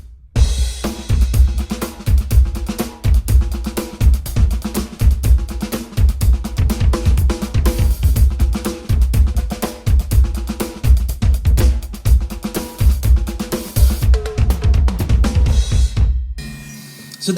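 A drum kit plays the Kalle Mathiesen Funk groove at a faster tempo, with punchy kick, crisp snare backbeats, extra sixteenth notes before beats 2 and 4, and steady cymbal work, loud and close, with no talking.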